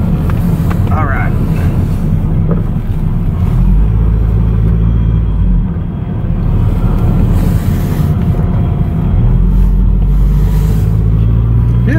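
Toyota MR2 with a transmission issue cruising slowly around a parking lot, a steady low engine and road rumble close to the microphone with wind buffeting, and someone talking over it.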